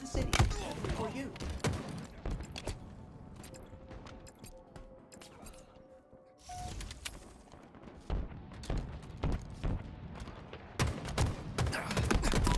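Rapid gunfire in Halo: dense bursts of shots and impact crashes throughout, briefly thinning in the middle before resuming, mixed with game effects and a voice talking over the action.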